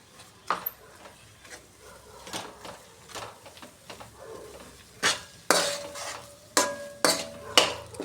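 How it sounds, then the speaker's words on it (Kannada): A spoon stirs a thick mixture of Totapuri mango, ground fresh coconut and jaggery in a pan. Soft scraping strokes give way to louder, sharper metallic clinks and scrapes in a steady rhythm. "ತೋತಾಪುರಿ ಮಾವಿನ ಹಣ್ಣು ಮತ್ತು ಕೊಬ್ಬರಿ ಎಲ್ಲನೂ ಮಿಕ್ಸ್ ಮಾಡಿ ಬೇಯಿಸ್ಕೋಬೇಕು ಚೆನ್ನಾಗಿ"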